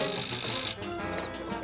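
A telephone rings as part of a TV advertisement, a bright, sustained electronic trill that stops partway through and gives way to a quieter tone, with no voices.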